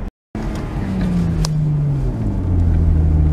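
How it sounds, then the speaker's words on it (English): A Lexus IS300 engine revs hard under full throttle while its clutch slips, a loud steady roar with rising pitch and little change in road speed, heard from inside the car after a brief cut at the start. "I'm going to floor it. RPMs go up, but I'm not really accelerating that much, so it's definitely slipping"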